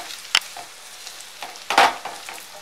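Ginger pieces frying in a pan for a pickle, heard as soft sizzling with a couple of sharp stirring scrapes, fairly close and quiet with no voices.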